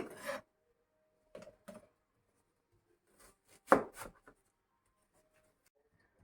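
A knife slices ingredients for a meat marinade in a few short, separate cuts against a board, each a brief close scrape with quiet gaps between.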